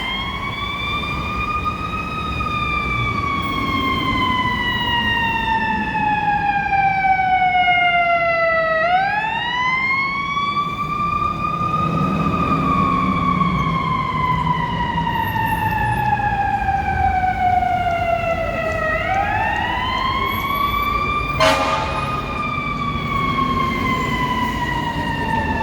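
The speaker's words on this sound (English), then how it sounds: "So this is the third fire engine truck" A fire engine siren wails in downtown Chicago, repeated rising and falling sweeps that are loud and near, with a sharp horn blast late on and low traffic rumble underneath.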